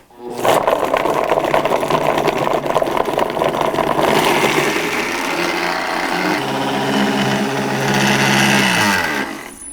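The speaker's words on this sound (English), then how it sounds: "Try using the blender for this next part. There's 50 grams of garlic cloves." A blender whirs loudly as it chops 50 grams of garlic cloves with a splash of oil, a close, steady motor roar starting abruptly, shifting pitch midway, then spinning down at the end.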